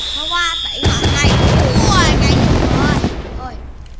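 Fireworks go off in the video game Mini World, a loud crackling burst of pops that fills several seconds under a whistling tone, with a voice talking briefly before and after.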